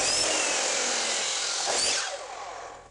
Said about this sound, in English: cut those bundles at 3 1/8 inches long